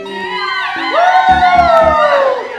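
Children in a Sunday school audience shouting and cheering loudly in a rising chorus over upbeat music with a thumping beat, close and energetic, lasting a couple of seconds.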